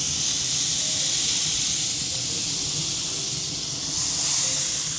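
Meat strips and ribs on a smoker grill get spritzed from a spray bottle, a continuous loud hissing mist that holds steady for several seconds with a slight swell near the end, nobody talking.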